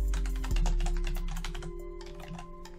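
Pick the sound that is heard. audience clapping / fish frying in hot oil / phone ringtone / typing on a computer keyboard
typing on a computer keyboard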